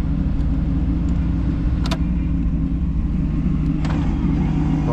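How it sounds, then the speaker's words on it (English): A 1977 Oldsmobile Toronado Brougham idles steadily with a deep, even engine rumble close by, with a couple of brief clicks over the running motor. "Motor sounds good. Lots of power."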